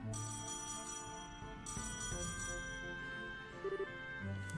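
A telephone rings in the video game Trails in the Sky SC, a steady electronic ring heard over game background music, repeating alone without any talk.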